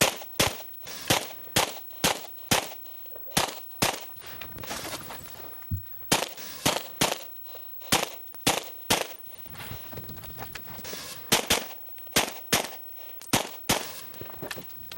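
Rapid pistol shots ring out during a 3-gun shooting competition, dozens of sharp close reports fired in quick strings with brief pauses between bursts, loud and dominating throughout.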